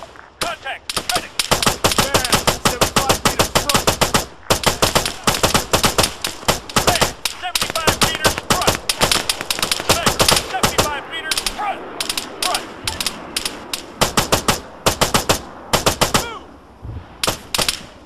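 Machine gun fire in the military shooter Arma III rattles in long, loud, rapid bursts, pausing briefly between strings of shots, with shouted voices mixed in.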